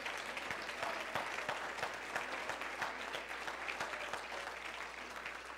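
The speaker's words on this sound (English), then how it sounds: "why don't you clap your hands to the Lord one more time" Church congregation clapping their hands together, a soft, fairly distant wash of many hands with some distinct claps, steady and moderately quiet against a low hum.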